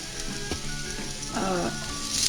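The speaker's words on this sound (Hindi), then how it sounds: "अभी हम इसे फ्राई करेंगे" Boiled chicken shredded into small pieces sizzles steadily as it fries in a pan, a constant hiss with a few clinks and scrapes of stirring on top.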